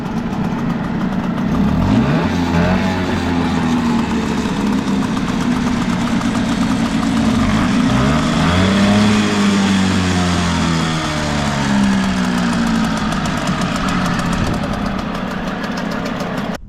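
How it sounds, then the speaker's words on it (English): Close Hangkai and Mercury two-stroke outboard motors are revved repeatedly, their pitch climbing and falling in several surges over a steady buzzing idle. "Two-stroke. Let's rev them up, hear how they sound."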